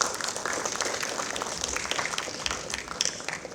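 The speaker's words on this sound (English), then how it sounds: "Everyone, please welcome sir with a big round of applause." Dense, even applause from a seated audience welcoming a guest at an inter-college crossword competition prize distribution, a continuous wash of many hands clapping with no talk over it.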